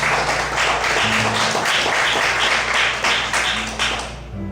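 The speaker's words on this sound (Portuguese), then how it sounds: "Vamos aplaudir ao Senhor nessa noite." A church congregation clapping for the Lord during an evening service, steady dense applause under music with a sustained low tone, fading at the end.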